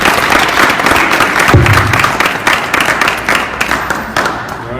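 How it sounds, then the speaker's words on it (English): Audience clapping after a talk at an entrepreneur event fills the room, a dense burst with a single thump partway through, tapering off toward the end. "Let's give Leah a Okay, round of thank applause."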